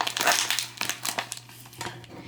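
A plastic mail bag is torn open up close with quick crinkling and ripping bursts that come in uneven, rapid spurts.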